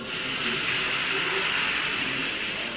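Water pours into a cooking pot on a home stove while dinner is made with onion and green chilli, a steady broadband hiss that runs throughout without a break, close and fairly loud.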